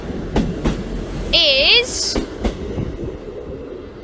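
Trains at Manchester Piccadilly station, including services bound for Liverpool Lime Street and in from Norwich: rhythmic clicks of wheels over rail joints, a brief wavering whine or horn and a high hiss, with a voice speaking briefly.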